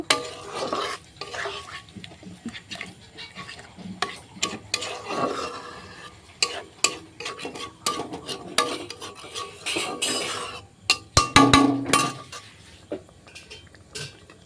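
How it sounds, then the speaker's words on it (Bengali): Rohu fish curry being cooked down in a pan, with a cup of water added, giving spoon stirring, clinks against the pot and a light sizzle; the bursts of scraping come close and fairly loud and repeat unevenly. "আমি আবারও এক কাপ পরিমাণ জল দিয়ে দিচ্ছি তরকারিটাকে কষানোর জন্য"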